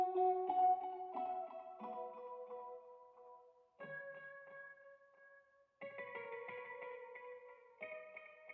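Sustained keyboard chords from a piano layered with an electric piano preset, softened by tape-style saturation and reverb, ring out in slow changing blocks with a washy tail, quiet and alone without any talking.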